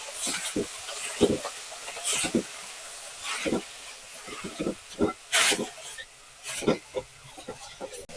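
Chopped fenugreek leaves tipped into a hot pan and stirred, giving bursts of sizzling hiss and scraping at irregular intervals between quieter gaps, close and moderately loud.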